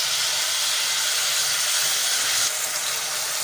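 Chopped spinach for palak paneer sautés in a hot pan, giving a steady, bright hiss and sizzle that holds evenly throughout, close and fairly loud with no talking.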